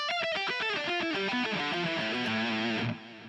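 Distorted electric guitar alternate-picks a rapid run of notes descending in pitch, evenly and quickly, ending on a held note that fades down.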